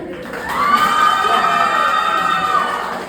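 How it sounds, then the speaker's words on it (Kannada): A young women's section of the crowd at an evening college cultural program erupts in a shrill, rising whoop and cheering that swells and holds for about two seconds before tapering off. "ಈಗ ನಮ್ಮ ಹುಡುಗಿರ ಕಡೆಯಿಂದ ಜೋಶ್ ದೊಡ್ಡ ಚಪ್ಪಾಳೆ ಬಂದೆ."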